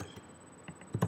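Typing on a computer keyboard: a quick, close run of a few light key clicks, spaced unevenly and clustering toward the end, with no talking.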